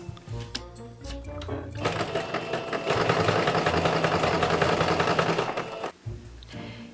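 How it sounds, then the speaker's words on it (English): A sewing machine runs basting stitches along leather jacket sleeves. Short bursts of mechanical whirring lead into a sustained rapid rattling run of stitching that stops abruptly, followed by a few quieter handling sounds. "I will also sew 2 lines of basting stitches to gather the top of my sleeves."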